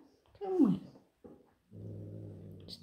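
Persian cat growling up close indoors, a low rumbling growl after a brief higher yowl-like cry, quiet and intermittent with short pauses.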